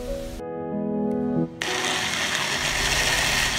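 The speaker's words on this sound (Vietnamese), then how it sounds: "Mình bỏ vào máy sinh tố mình xay cho nhuyễn." Kitchen blender pureeing soft cooked red beans with some water for steamed bun filling, a loud steady whirring grind that pauses briefly near the start and again before restarting at full strength.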